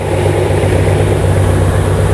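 A car engine with triple Weber carburettors and a lumpy cam idles at about 900 rpm, a loud, steady low throb with a rhythmic pulse and an airy carburettor hiss above it, close up and without talk.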